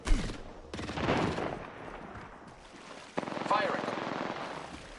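Gunfire in a video game crackles in quick bursts at moderate loudness, with a sharp report near the middle, mixed with game noise and talk.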